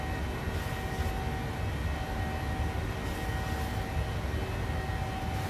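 PMDG 737-600 jet engines at climb thrust in Microsoft Flight Simulator, a steady, even roar with a faint high whine, holding at constant loudness throughout with no talk over it.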